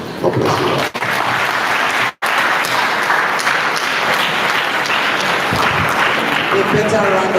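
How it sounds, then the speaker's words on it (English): Dense, sustained applause from a crowd at the close of a three-day agricultural training workshop, steady and loud throughout with two brief drops, voices mixed into the clapping. "A better round of applause."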